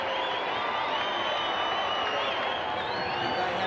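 A stadium crowd roars and cheers at a 1991 rugby league playoff between Western Suburbs and Canterbury, a dense, steady wash of noise with a commentator speaking over it.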